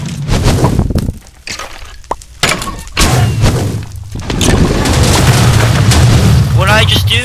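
A bone explosion arrow fired in a video game, heard as heavy booms and shattering crashes mixed with thuds and dense game noise, with a voice talking over it.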